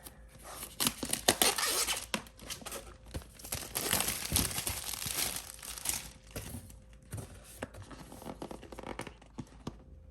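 Paper and plastic packaging of a DJI Osmo Mobile 6 gimbal box crinkles and tears in bursts of rustling, close and fairly quiet, as it is unboxed and handled.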